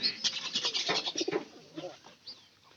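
A pigeon gives a close, soft run of throaty cooing notes that fade into a few quieter calls, heard alone.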